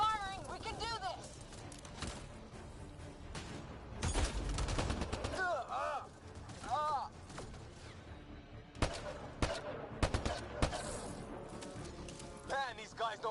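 Mass Effect Andromeda combat with bursts of weapon fire and sharp impacts scattered through a chaotic fight, mixed with shouted voices and game sound effects.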